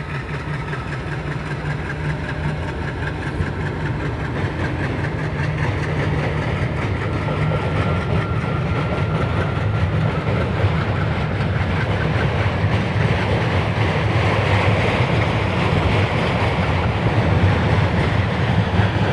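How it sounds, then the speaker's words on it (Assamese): A train passing over a bridge rumbles steadily and loudly throughout, a continuous heavy roar with faint rhythmic clatter of wheels on track, no voices. "এখন ট্ৰেইন আহিছে।"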